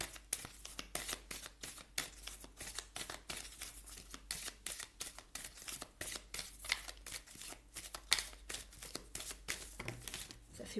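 Oracle cards of goddesses, gods and guardians are shuffled repeatedly, a quick, steady run of crisp papery riffles and snaps, close and alone without talk.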